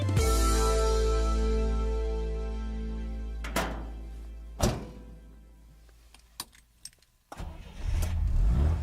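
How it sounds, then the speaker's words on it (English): A Soviet GAZ-21 Volga car engine rumbling loudly at first and fading, then several heavy thunks and clicks, before the engine roars up again near the end. "The sound of a running engine of the Volga exhaust system remained recognizable forever."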